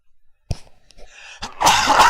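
A single sharp sneeze bursts out close to the microphone after a brief quiet moment, followed by a noisy breathy exhale.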